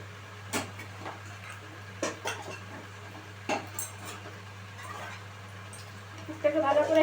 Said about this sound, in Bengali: আমি এরমভাবে চালিয়ে দিচ্ছি পুরটাকে।